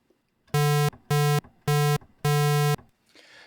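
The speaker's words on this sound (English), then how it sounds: "square wave." Synthesizer square wave tone played as four bright, buzzy sustained bursts with short gaps between, alone and loud.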